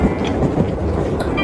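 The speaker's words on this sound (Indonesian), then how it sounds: "Ketika kereta kembali memasuki terowongan" A passenger train rolls on the rails as it enters a tunnel, a steady dense rumble with faint clickety-clack, continuous and close throughout, no voices.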